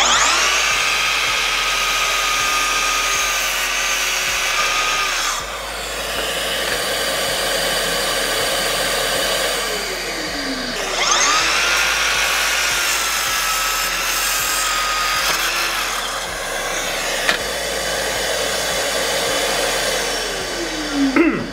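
A Festool KSC 60 40V cordless miter saw runs at a loud, high-pitched whine and repeatedly cuts through wood, each pass rising and then dropping as the blade slows, close-up with no talking.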